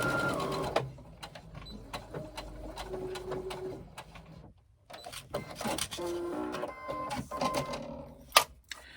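Short, stop-start runs of a sewing machine stitching a 3/8 inch bag seam on a crossbody bag, each burst brief and close, separated by quiet pauses and handling noises.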